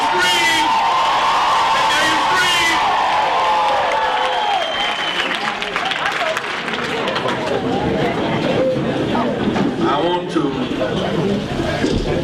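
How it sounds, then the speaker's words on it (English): A rally crowd screams and cheers loudly, building into sustained applause and whoops over several seconds, with some shouting and chatter mixed into the roar. "Let me hear you scream."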